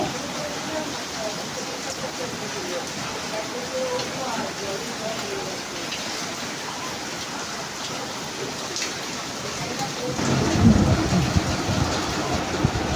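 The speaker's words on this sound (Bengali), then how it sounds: "এত বৃষ্টি" Heavy rain in Kolkata pours steadily as a dense, even wash of drops close by, and a louder, rougher burst of splashing water comes in near the end.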